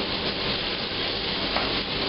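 Chopped onions frying in a pan for lamb curry as they are stirred, a steady close, bright sizzle that runs evenly throughout with no voice over it.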